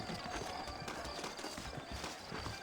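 Horse hooves clip-clopping in the video game Red Dead Redemption, a steady rhythmic trot of several beats continuing throughout at moderate level, with a voice speaking over it.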